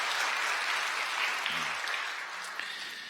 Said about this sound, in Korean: 여러분들 박수 한번 보내주시죠.